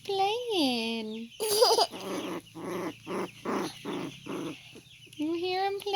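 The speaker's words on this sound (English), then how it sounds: "You hear him playing?" A dog playing gives a whining, yelping call followed by a run of short rhythmic grunting and panting noises up close, ending in another whine, with no clear speech over it.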